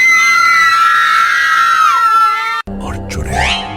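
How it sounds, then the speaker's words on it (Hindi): A single long, high wailing scream that rises, wavers and falls before cutting off abruptly, echoing through a forest, followed by a burst of dramatic sound effects. "एक चीख पूरे जंगल में गूंजी"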